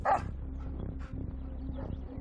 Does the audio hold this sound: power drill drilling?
no